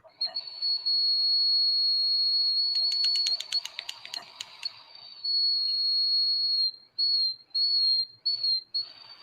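A bong fitted with a whistling tip gives a sustained high, piercing whistle, close and loud, broken by rapid pulsing flutters and then cut into short bursts near the end, with no talking.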